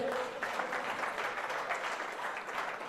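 An audience at an award ceremony honouring an actor claps steadily and densely, a sustained wash of applause from a hall crowd at moderate distance.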